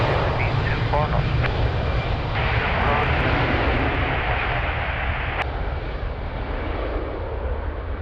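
Airliner jet engines roar steadily on takeoff from runway 02 at Lisbon Airport in windy conditions, a loud, continuous rumble with heavy low-end wind buffeting, while radio voices talk over it.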